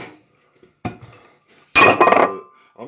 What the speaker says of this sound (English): So we need to put them in our roasting tin.